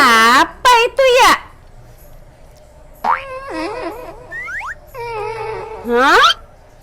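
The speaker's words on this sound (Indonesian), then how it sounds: "Ini kakak lagi ngerekam kucing ngorok." A cat snoring at home, heard as several short nasal, rising whiny snores in quick bursts at the start, then a longer wavering run of snores midway and a final rising burst, close and fairly loud.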